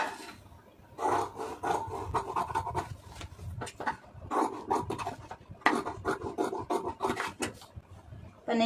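Scissors cutting through blouse fabric along marked lines, repeated close rasping snips in bursts with short pauses between strokes.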